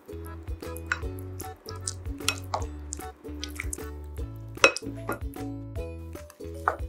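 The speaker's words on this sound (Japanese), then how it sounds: "ラップを外して軽く混ぜ合わせます" Repeated light clinks and scrapes of a utensil against a bowl, stirring microwaved risotto with soft wet squishing, in an irregular rhythm against a low background hum.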